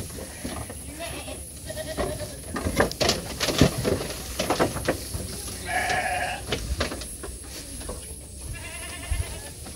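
Goats bleat while being fed at a rural family home. Scattered bleats rise over rustling, handling noise and a steady background hiss, with a clearer bleat partway through.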